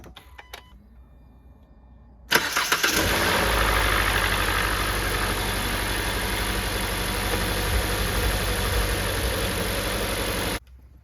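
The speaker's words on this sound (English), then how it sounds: "We're going to start the engine up, see if there's any leaks" A 2017 Hyundai Elantra engine cranks over and catches after a couple of quiet seconds, then settles into a steady, loud idle with a faint whine before cutting off.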